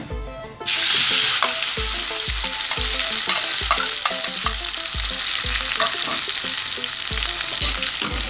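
Ground masala hitting hot ghee for a Lahori chicken karahi, bursting into a loud, steady sizzle that fills the whole stretch, with a rhythmic series of spatula scrapes and taps against the pot throughout.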